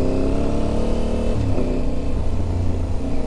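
An Aprilia Tuareg 660 motorcycle engine drones loudly during a ride, a steady close mechanical hum that shifts pitch partway through as the rider changes speed.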